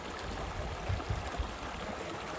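A creek flows along the Tahoe Rim Trail with a steady, close rush of water and a few faint gurgles, with no voices.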